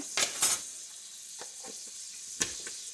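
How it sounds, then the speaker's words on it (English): Garlic simmering in butter in a pan, a soft steady sizzle broken by a few sharp scrapes and clinks of a utensil stirring against the metal, close and fairly quiet, with no talk. "I'm gonna use 1 tablespoon of this garlic. And let that simmer away with that."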